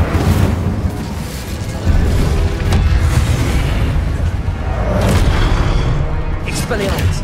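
Hogwarts Legacy Incendio fire spell going off amid rapid combat, with a dense low rumbling boom and fiery bursts sustained across the clip alongside other spell impacts.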